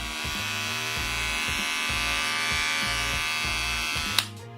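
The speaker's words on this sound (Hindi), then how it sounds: "मैं बात करूंगा इस ट्रिमर के साउंड की" A Philips QT4001 electric hair trimmer, two years old, hums steadily and close, a buzzing motor drone with a faint rhythmic pulse, ending with a sharp click as it is switched off.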